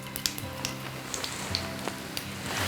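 Mustard seeds splutter and pop in hot oil in a pan, a soft steady sizzle with scattered small crackles, fairly quiet and alone.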